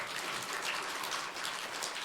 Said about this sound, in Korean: 자, 우리 응답되도록 박수로 하나님 앞에.